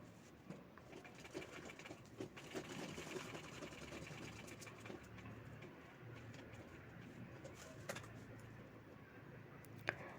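A sewing machine stitching a handbag made from sari fabric, a faint rapid mechanical whir running through the quiet room, with pigeons cooing softly in the background and no speech.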